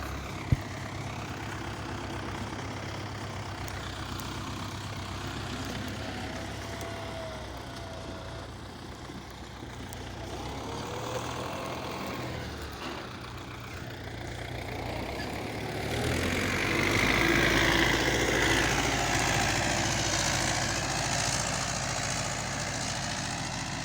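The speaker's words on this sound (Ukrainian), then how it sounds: "у нас приїхав трактор" A heavy diesel tractor engine idles steadily nearby, its low rumble growing louder toward the end as the motor picks up.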